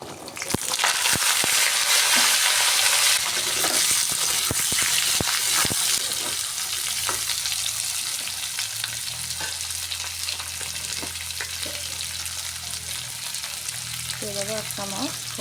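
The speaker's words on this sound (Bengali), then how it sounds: "এবার আলুগুলো ভেজে নেব সয়াবিন রান্না করার জন্য" Potatoes frying in hot oil in a wok give a steady, loud sizzle throughout, with occasional stirring clatter and scraping close by.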